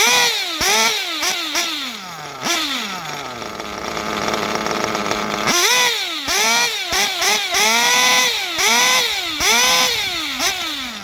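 A small high-revving nitro model engine, still running rich during break-in, buzzes loudly and continuously, its pitch swooping up and down in repeated throttle blips with a brief steadier stretch in the middle.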